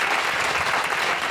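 Congregation clapping steadily at an evening church preaching service, a dense continuous applause filling the room without pause.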